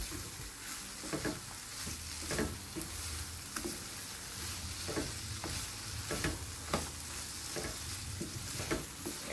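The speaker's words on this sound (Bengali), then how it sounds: "শুক্তিটা আরও পাঁচ মিনিট এরকম তো লাগবেই কষাতে ভালো করে নাড়াচাড়া করে দিব" Dried fish (shutki) being stirred with spices in a hot pan, a steady sizzle broken by repeated scraping spoon strokes at an uneven rhythm, close and moderately loud, with no voices.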